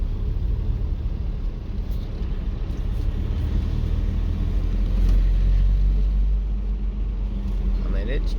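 A Toyota 22RE engine pulls a truck slowly uphill in third gear at light throttle, a steady low rumble with road noise droning throughout, while a voice talks over it.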